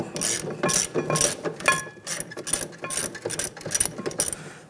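A breaker bar loosening tight 14mm caliper bracket bolts on a car brake, giving a steady run of rapid metallic ratcheting clicks in close, even bursts with no talking.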